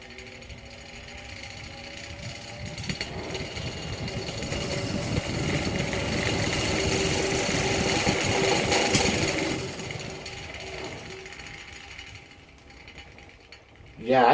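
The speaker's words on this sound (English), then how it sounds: "Yeah, I think these blades are knackered. And that rattling is a little badge at the center" An old electric fan running with worn blades, a steady close motor hum overlaid by a continuous buzzing rattle from a loose badge at the blade hub, building louder midway and then cut off.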